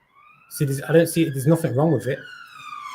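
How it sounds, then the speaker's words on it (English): A police siren wails outside, its rising and falling tone running steadily behind someone speaking close by throughout. "Excuse the sirens."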